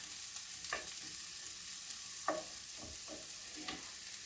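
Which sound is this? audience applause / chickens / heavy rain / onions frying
onions frying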